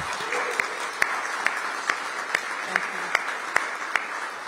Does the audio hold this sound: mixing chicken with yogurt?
no